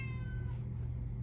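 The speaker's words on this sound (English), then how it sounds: "I apologize for the cat noises" A house cat lets out a single drawn-out meow with a falling tone. It is faint, fairly close and heard alone over a low indoor hum.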